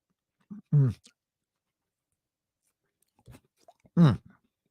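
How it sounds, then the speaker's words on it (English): Chewing of really fatty meat close to the mic, with two separate wet, crunchy bursts of mastication about three seconds apart and near silence between them. "Chewing. You got to chew it a lot."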